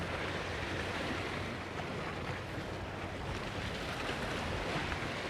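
Ocean waves wash against a rock wall on the Hillarys coast of Western Australia, a loud, continuous rushing surge mixed with wind buffeting the microphone, with no talk.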